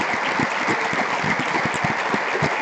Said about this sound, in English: I want to give them a round of applause for everything they do.